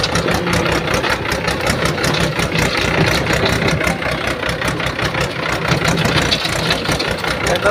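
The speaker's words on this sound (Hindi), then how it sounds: "ट्रैक्टर ट्रैक्टर ट्रॉली ये देखिए" An MT3 80 tractor engine runs steadily near the microphone with a loud, continuous rhythmic chugging throughout and no speech over it.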